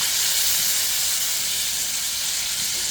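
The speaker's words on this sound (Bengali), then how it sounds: "এখন এগুলো আমি তেলে ভেজে নেব।" Marinated chicken pieces frying in hot oil, giving a dense, steady hiss and sizzle that holds evenly without a break, close and fairly loud with no voices.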